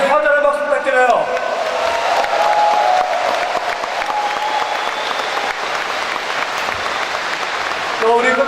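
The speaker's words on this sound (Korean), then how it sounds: "세 분이 커다란 박수 부탁드려요" Large crowd applauding steadily in a university gymnasium after the New Politics Alliance for Democracy's North Jeolla governor primary vote count, with scattered cheers and a brief voice at the start, sustained for several seconds.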